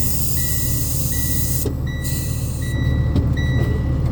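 A dump truck working as a road sander idles steadily inside its cab, a constant low engine drone with a few faint high electronic beeps over the top.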